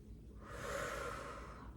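Slow, deep breathing held in a child pose stretch during a strength and stretch workout, a single long airy exhale swelling and fading, close and soft with no talk.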